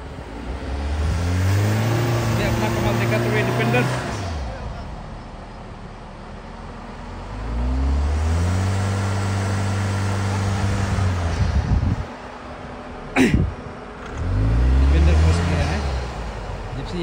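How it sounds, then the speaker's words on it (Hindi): Off-road vehicles, a Land Rover Defender and a Maruti Gypsy, rev their engines while driving through deep sand, with loud repeated rising engine surges, one passing close, under excited talk from onlookers. "जिप्सी क्रॉस हुआ और लैंड रोवर डिफेंडर या स्टक होते हुए आप देख सकते हैं।"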